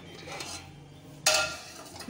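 Serving utensils scrape and clink against a pot while spicy Hyderabadi chicken pulao is dished out, soft scraping followed by one sharp metallic clank near the end, close and fairly quiet.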